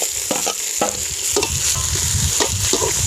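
Slit green chillies and coriander leaves frying in a pan, a steady hiss of sizzling oil broken by several scraping, stirring strokes, close and fairly loud with no voices.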